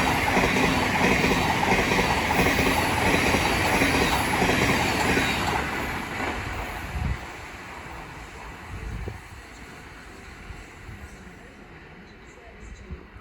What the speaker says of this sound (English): here's the Thameslink Class 700 from London Bridge to Brighton